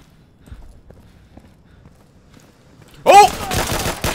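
Video game gunfire breaks out suddenly after a long near-silent stretch, a loud burst of shots with ringing tails, close by and continuing to the end.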